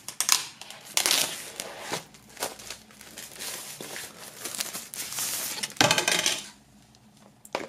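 A CD, in a small plastic sleeve, slips out of a Casper XOXO vinyl record sleeve during unboxing, giving loud close rattles, clacks and crinkles as it is handled and shaken.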